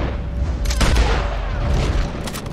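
Gunfire in Red Dead Online, a western multiplayer game: a loud boom of a shot followed by sustained crackling, rumbling background noise, close and heavy.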